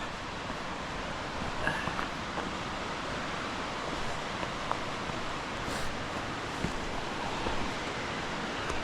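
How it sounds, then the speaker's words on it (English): Steady broadband rush of a waterfall flowing strongly on a trail in the Smokies, continuous and fairly loud with no pauses, filling the whole stretch without voices. "the water is flowing good today"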